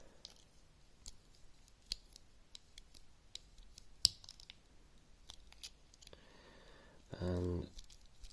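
Victorinox scissors handled during maintenance and oiling, giving sparse quiet metallic clicks and ticks scattered across several seconds, close and faint, ending with a short louder snipping burst.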